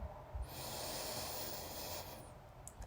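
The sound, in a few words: deep breath in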